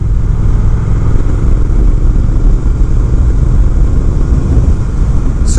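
Steady, loud engine drone of a 2020 Triumph Speed Twin motorcycle exhaust while riding on a bumpy road, a continuous low rumble with wind noise and no talk.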